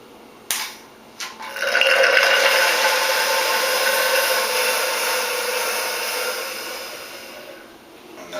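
A shop vacuum is switched on to draw out motorcycle fork oil and set the level in a Yamaha FZ1 fork tube, giving a steady, fairly loud broadband whoosh after a couple of clicks, running several seconds and then tapering off.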